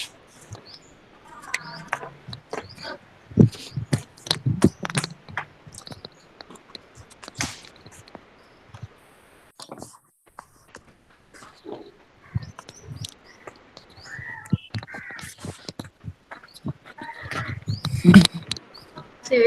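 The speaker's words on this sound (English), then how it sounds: "See, Veeravardhan, from your place, so much bird noise is coming." Birds chirping and crows cawing outdoors near a home, a busy scatter of short calls and clicks at moderate volume with faint background noise throughout.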